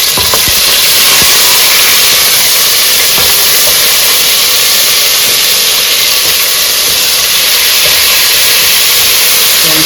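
Ginger garlic paste fries in hot ghee in a pan, giving a loud, steady, broadband hiss and sizzle that holds evenly from start to finish, close up with no talking.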